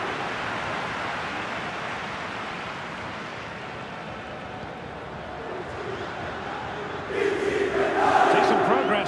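Stadium crowd at an FC 24 video game match, Atalanta vs. Juventus in the 2023/24 Coppa Italia final: a steady, dense roar that swells louder and brighter near the end.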